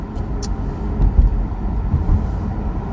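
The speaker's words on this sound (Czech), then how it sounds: "šestiválec, plochej, naprosto specifický zvuk, který má Porsche" A Porsche flat-six engine hums low and steady while driving, with a few brief swells, heard from inside the car without speech.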